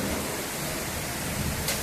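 Heavy rain pours down in a dense, steady roar during a summer thunderstorm in Saltivka, Kharkiv.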